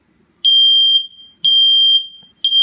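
A First Alert smoke detector alarm sounds in loud, piercing high beeps of about half a second each, three in a row with short gaps between, close and clear with no talking.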